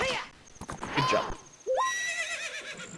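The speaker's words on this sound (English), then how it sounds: "Excellent horse riding skills." A horse in Zelda: Ocarina of Time neighs twice with game sound effects and galloping clip-clops, loud and close, and a voice talks briefly in the first half.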